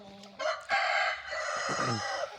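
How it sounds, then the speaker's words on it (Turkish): A rooster crows nearby on a chicken keeper's flock, a loud, drawn-out call rising and then trailing off, with a few clucks around it. "kısa videoda attığım Cice Poşin horozumuz ilk defa diğerlerinin arasına çıkardım."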